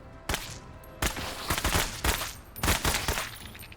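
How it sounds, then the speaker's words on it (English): Gunfire in the tactical game Menace comes as several sharp bursts of shots over a low background hum, each volley crackling with rapid reports and separated by short gaps. "we'll shoot at this guy"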